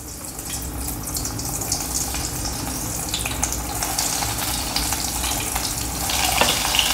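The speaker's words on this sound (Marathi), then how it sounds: "आता कढईमध्ये तेल तापत ठेवलं आहे, आता आपण हे ह्याच्यात तळायला सोडूया" Cheese corn balls fry in a kadai of hot oil over a high flame, giving a steady, dense sizzle that stays loud and even throughout with no voices.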